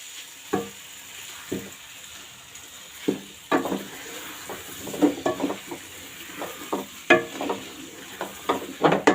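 Masala for an egg and potato curry sizzles gently in a pan while a spoon stirs and scrapes in irregular taps and clinks.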